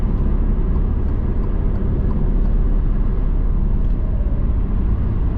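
An Alfa Romeo Giulia 2.0T with an aftermarket downpipe and exhaust drones steadily and loudly, heard from inside the cabin as a continuous low engine and road rumble with no voices.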